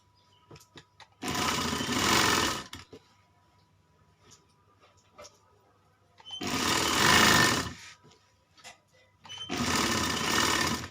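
A sewing machine stitching the bann seam of a child's kurta with kalis runs in three loud close bursts of rapid whirring, separated by quiet gaps with faint handling clicks.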